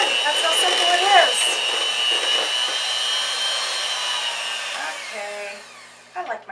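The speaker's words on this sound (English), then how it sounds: "Okay, I like my hand mixer." An electric hand mixer whirs loudly and steadily up close while beating mini chocolate-raspberry swirled cheesecake batter, then winds down and stops near the end as a person speaks.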